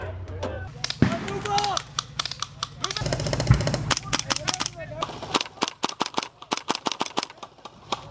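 Airsoft guns fire during an infantry game, a dense string of sharp, close cracking shots in quick rapid bursts, with voices and movement underneath at the start.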